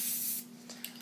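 Spray paint hissing onto a wooden flatland skimboard, one close, fairly quiet burst of spray lasting under half a second, followed by a few faint taps and rubs.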